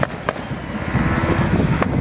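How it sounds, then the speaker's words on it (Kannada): Firecrackers burst at a Kempegowda Jayanti celebration held by a Vokkaliga association in Chelur, with a few sharp cracks standing out above a busy rumble of crowd and background noise. "ನೋಡಿ ಯಾವ ರೀತಿ ಪಟಾಕಿ ಸಿಡಿಸ್ತಾ ಇದ್ದಾರೆ"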